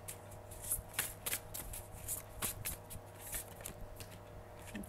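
Tarot cards being shuffled by hand, a steady run of soft riffling flicks and slaps, close and quiet over a low background hum.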